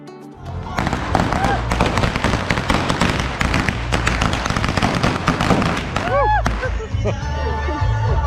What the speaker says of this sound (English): we've noticed something popular amongst all Guatemala: firecrackers.